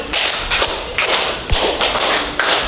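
A classroom of students claps together in a counting game, sharp unison claps landing in a steady rhythm of repeated groups, loud and close with brief gaps between.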